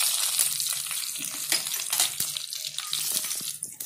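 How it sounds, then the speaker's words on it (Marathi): Garlic frying in hot oil, a dense bright close sizzle with occasional light scrapes and knocks of a stirring utensil throughout. "लसूण चांगला लाल झालाय, असं लाल होऊ द्यायचा, खरपूस तळून घ्यायचा"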